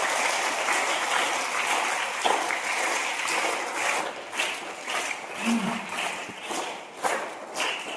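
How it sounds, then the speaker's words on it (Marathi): Audience applause welcoming a guest speaker, a journalist, at a Guru Purnima school event, a sustained crowd of claps running the whole time with a few louder bursts. "सर्वप्रथम आपण टाळ्या स्वागत करू"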